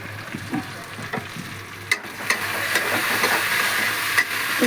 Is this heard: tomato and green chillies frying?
yes